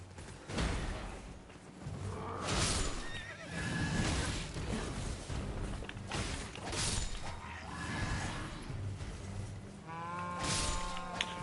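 A horse in the video game Elden Ring neighs and whinnies loudly several times, mixed with clip-clopping hooves and clattering game sounds, with no speech.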